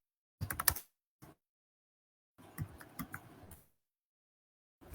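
A few quick bursts of keystrokes on a computer keyboard, a short clatter, a single tap, then a longer run of typing in an otherwise quiet room.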